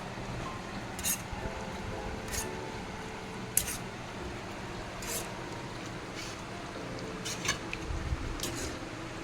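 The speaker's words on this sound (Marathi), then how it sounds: "सो गाईस आता मी मिक्स करून दाखवते" Korean ramen being stirred in a pan, soft scraping and squishing with occasional sharp utensil clinks against the metal, close and moderately quiet, with no talking.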